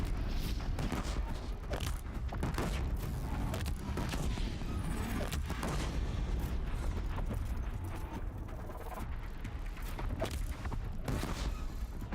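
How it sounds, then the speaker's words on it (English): A dense, rumbling explosion from the video game Horizon Zero Dawn, played on PS4, with heavy crackling and booming that carries on loud and continuous throughout. "There's the explosion I wanted."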